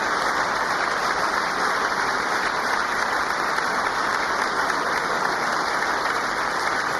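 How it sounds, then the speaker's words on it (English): A large chamber audience applauds at a US State of the Union address, a sustained wash of many hands clapping at a constant, unbroken level, like heavy rain, with no speech over it. "We got to get through the 3 minutes of clapping."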